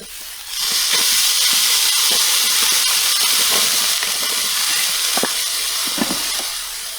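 Water splashed onto a hot Blackstone griddle erupts into a loud, sustained steaming hiss that starts abruptly and holds steady, with a few faint pops and crackles underneath and no one talking.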